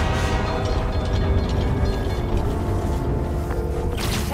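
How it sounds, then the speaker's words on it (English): A New York subway train in Marvel's Spider-Man powering up, with a steady loud mechanical rumble and drone that holds throughout, close and unbroken. "I can use that to power the trains"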